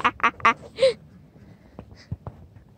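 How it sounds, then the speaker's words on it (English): Ducks at a petting zoo on a farm give several sharp quacks in quick succession, fairly close, followed by quieter scattered bird calls and faint background noise. "And I hear a duck quack."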